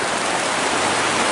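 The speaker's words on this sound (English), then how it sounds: "I am stuck in the rain now." Rain pours down outdoors as a dense, even, close hiss that stays loud and unbroken throughout.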